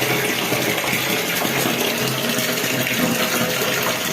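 Water is poured out in volume onto a bathroom floor with ungrouted gaps in the tiles, making a steady, loud, close gushing rush with no pauses.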